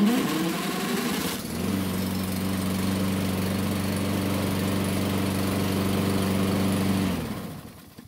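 A Husqvarna lawn mower engine catches after a pull start at about 1.5 seconds, then runs at a steady, close, droning idle for several seconds before cutting out near the end, with no talk over it.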